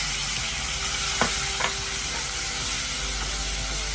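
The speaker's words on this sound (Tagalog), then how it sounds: "ipro-fry una natin yung beef" Beef frying in a pan makes a loud, close, steady sizzle with a couple of quick clinks or stirring taps early on, and no talking.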